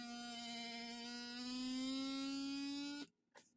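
A vacuum sealer pumps air out of a mason jar of pasta through a hose and jar attachment, a steady, close electric whine with a slowly rising pitch that runs for about three seconds and then cuts off abruptly.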